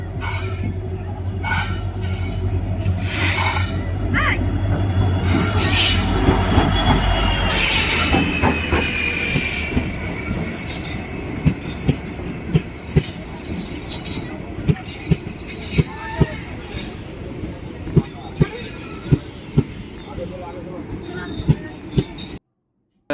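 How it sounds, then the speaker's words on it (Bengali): The Balurghat Express passenger train pulls into a station, its wheels rumbling and squealing loudly at close range, followed by rhythmic clacking as the cars roll past, with people talking on the platform. "আমাদের বালুঘাটে ট্রেন ঢুকছে"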